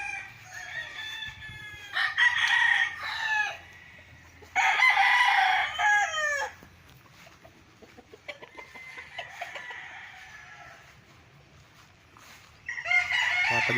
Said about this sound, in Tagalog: So ang gaganda ng mga manok dito.